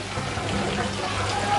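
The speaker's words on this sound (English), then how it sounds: "Water is flowing" Water flows steadily through an aquaponics swirl filter with a centre pipe, making a constant close rushing, trickling wash with no break.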